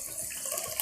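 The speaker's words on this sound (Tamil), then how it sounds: "ஒரு 1/2 கப் தண்ணி விட்டுருக்கேன்" Half a cup of water poured onto sugar to make syrup for Diwali sweets, a brief trickling, running-water sound, fairly quiet and close, with no talking.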